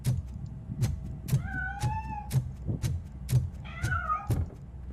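A cat in the video game Robocop: Rogue City meows a few times, short rising cries near and clear over a rhythmic thumping beat.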